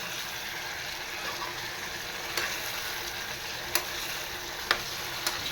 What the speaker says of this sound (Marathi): असे तेलावर परतवून घ्यायचं आपल्याला वांगी.